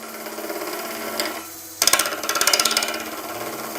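A wood lathe spins a block of epoxy and timber at about 1400 RPM, with a steady hum and a rhythmic, pulsing chatter as the tool bites in partway through.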